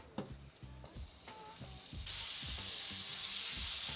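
Butter sizzling in a pan for a home-cooked meal, a steady close hiss that swells louder and brighter partway through, with a few soft low knocks of utensils, no talking.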